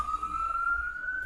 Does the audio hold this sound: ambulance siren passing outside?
yes